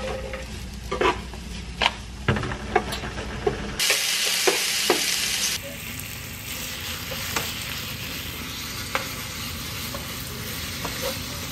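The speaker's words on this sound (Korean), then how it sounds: "저는 차돌박이 숙주볶음 하고 있어요" Beef brisket and bean sprouts stir-fried in a hot pan, with scraping stirs and steady sizzling throughout and a louder burst of hissing partway through.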